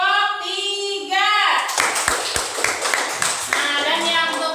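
A school class claps hands together for a group award, a burst of loud, close, uneven clapping following a stretch of voices, with lighter scattered claps and talk trailing after.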